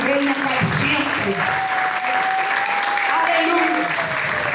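A church congregation claps loudly and continuously at a Spanish-language worship service, a thick wash of applause with voices and a sustained tone running through it.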